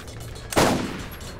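A single sharp gunshot in the Borderlands video game, a loud close crack with a short booming decay, standing alone.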